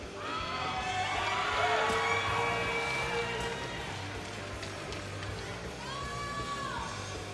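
A crowd at a timbersports event cheers and whoops in a continuous swell, loudest early and easing slightly while keeping a busy, shouting texture.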